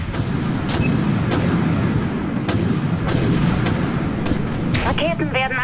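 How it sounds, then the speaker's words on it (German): Missile launches in the space combat game Dreadnought come as repeated sharp blasts over a constant loud rumble of battle noise, with a brief electronic warble near the end. "Raketen werden abgefeuert."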